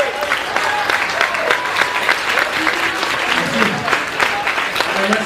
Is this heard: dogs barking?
no